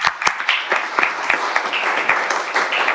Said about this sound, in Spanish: quisiera dar un aplauso a FM Electrodos,